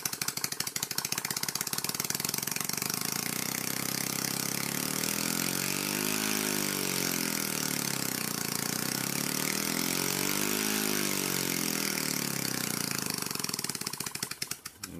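A Copeland scroll compressor, not bolted down, runs with a loud, steady mechanical hum and buzz and a slowly wavering tone, continuous until it cuts off near the end.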